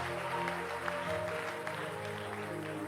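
A congregation applauds, with dense steady clapping and a low sustained musical tone underneath, moderately distant and even throughout.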